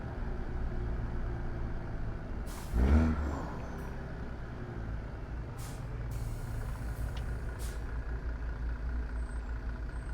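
Truck air brakes in American Truck Simulator, one loud sharp hiss burst near the start over a steady rumbling diesel engine, followed by continuous engine drone and a few faint clicks.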